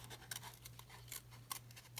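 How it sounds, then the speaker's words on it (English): Scissors snip through paper while cutting out the eye hole of a paper mask, a few faint, close, irregular crisp snips over a low steady hum. "stick your scissors in the hole and cut out"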